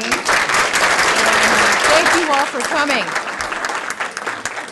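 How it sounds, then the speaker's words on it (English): An audience at an environmental forum on sea level rise applauds the speakers, a loud burst of clapping filling the room, with a voice talking over it as the applause continues. "hope you'll join me in one last round of applause"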